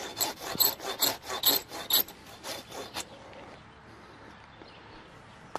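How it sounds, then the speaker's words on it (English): A handsaw makes a pruning stub cut through a dead tree branch, about eight rhythmic rasping strokes heard close and loud, then the sawing stops and only quiet outdoor ambience remains. "So, stub cut, and then come back and make a proper collar cut."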